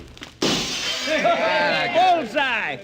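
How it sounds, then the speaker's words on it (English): Radio drama effect of a bottle thrown through a building window, a sudden loud shatter of breaking glass followed by tinkling shards, with a voice speaking over the tail of the crash. "Stop smashing those windows."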